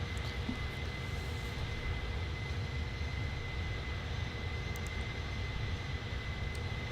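Jet engines of an Airbus A310 in Microsoft Flight Simulator hold a steady, even roar with a constant high whine, heard from the cockpit in level cruise.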